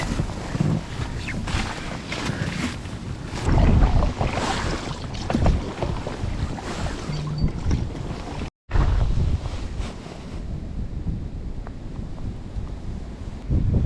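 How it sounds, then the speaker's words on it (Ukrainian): Strong, gusty wind roars against the microphone over choppy water from a small boat, with splashing and rumbling throughout and a brief dropout partway through. "Вітер не припиняється."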